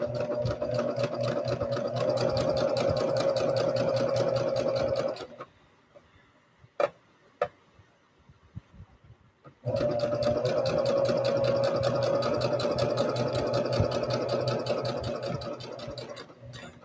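A sewing machine stitches a plus-size pajama tee-shirt of woven fabric. It runs in a loud, steady, rapid mechanical whir, stops for a few seconds with a couple of sharp clicks, then starts again for another long run.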